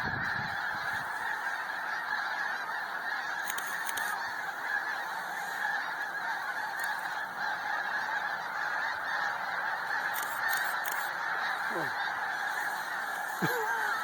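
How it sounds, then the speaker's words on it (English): A large flock of geese rising off a reservoir honks continuously, a dense, steady chorus of overlapping calls with no pauses, heard from a moderate distance. "I can truthfully say I've never seen so many geese."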